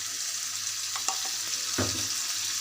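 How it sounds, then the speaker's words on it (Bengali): A cumin, garlic and ginger paste fries gently in a pan while being stirred, with a soft continuous sizzle broken by several quick utensil taps and scrapes. "এগুলো এখন আমি ভালো করে এটার সাথে নাড়িয়ে নেব, কিছুক্ষণ হালকা করে ভেজে নেব"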